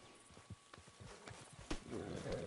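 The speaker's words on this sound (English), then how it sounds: "Freaking horse." Horse in the video game Red Dead Redemption 2, faint hoof clip-clops and snorting moving at a walk, low and somewhat distant, with players talking quietly over it.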